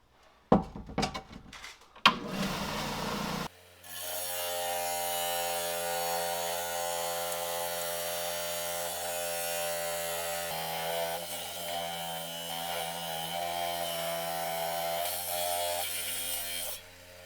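A rock saw slices through a thunder egg, a steady, loud mechanical whine with a strong droning hum that runs continuously for about fourteen seconds after a few brief clattering knocks of setup.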